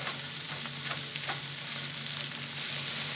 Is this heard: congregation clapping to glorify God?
no